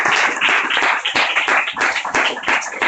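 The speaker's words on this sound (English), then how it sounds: "all of us, deserve a round of applause" A small audience at a gathering on LGBTQ issues and Ferguson claps loudly and close by, with individual hand strikes distinct in an uneven, lively patter.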